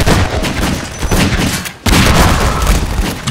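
Rocket launcher blasts and gunfire fill a Half-Life 2 Deathmatch match, loud and dense with booming impacts, a brief dip partway through, and then another heavy burst.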